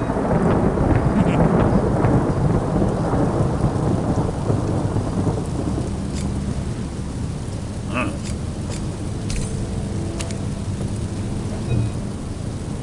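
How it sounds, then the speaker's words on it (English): A thunderstorm with heavy rain: loud, dense rainfall with rumbling thunder swelling early, then a steady downpour with scattered drips and faint clatter later. "Looks like a storm's brewing."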